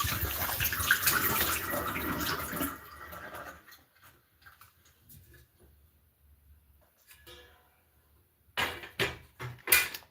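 Running water pours loudly at first, then cuts off, leaving near silence broken by faint drips and creaks before brief bursts of splashing return at the end.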